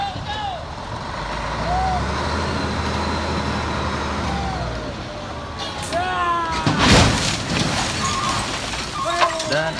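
An overturned trailer truck being righted and towed to the roadside at night, heavy engines rumbling steadily with reversing beeps, metallic clanks and a loud burst of scraping and hissing, while people talk over the work.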